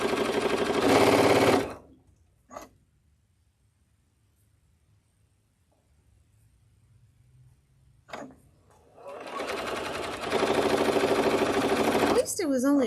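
Sewing machine stitching fabric quilt blocks: two loud bursts of steady machine whirring, one at the start and a longer one near the end, separated by a quiet stretch with a couple of brief clicks.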